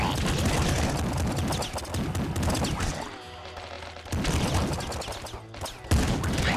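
Rapid weapon gunfire from the video game Nuclear Throne, dense bursts of shots in quick succession with short pauses, loud and continuous across most of the stretch.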